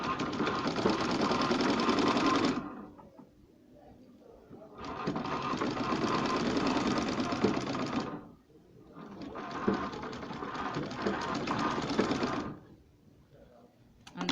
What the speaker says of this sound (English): This is the shoulder dart that I'm sewing. I'm sewing it to the place I punched.